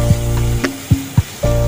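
Tomato goes into spices frying in a pan, making a loud, steady sizzle close up, broken by a few dull knocks and stirring thumps.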